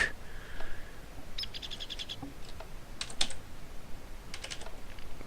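Someone is typing on a computer keyboard in a quiet room, with short bursts of soft, close keystrokes and brief pauses between them.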